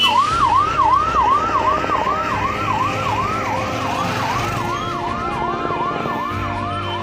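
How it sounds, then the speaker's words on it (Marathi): A fire engine siren wails continuously in a steady rising-and-falling cycle, loud and close, with traffic rumbling beneath, as it arrives at a vehicle fire at Medhwan Khind, Palghar, India, where police are stopping traffic. "आता हा अग्निशमन आला आहे"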